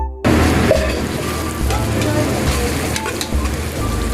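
Green chillies, garlic and ginger sizzle steadily in hot oil in a pan for chicken curry, with stirring scrapes throughout, close and fairly loud, starting abruptly after a brief quiet moment.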